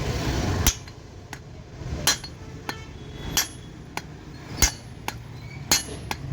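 Hammer blows on a pipe used to drive a tight part out of an e-rickshaw: about ten sharp metallic clanks at uneven intervals, each with a brief ringing clink, close and clear with no talking.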